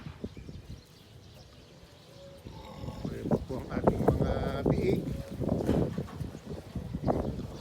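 Goats and other livestock in a farm breeding pen, with faint bleats and scattered animal movement under a person talking, the activity growing busier and louder midway through.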